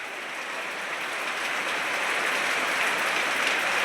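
Heavy monsoon-style downpour in Rajshahi, a dense steady hiss of rain falling on surfaces that grows slightly louder toward the end, with no voices.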